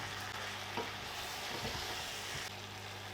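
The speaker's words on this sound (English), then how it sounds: "Give it all a good mix up." Minced meat and Worcestershire sauce are stirred in a hot pan, a soft continuous sizzle broken by a few scraping, shuffling stirs of the spoon, close and fairly quiet, with no talking.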